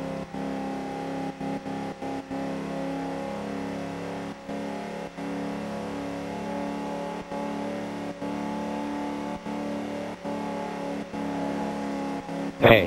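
Racing cars in a video game revving and droning steadily, with repeated brief dips in engine tone like gear shifts, and a short burst of sound right at the end.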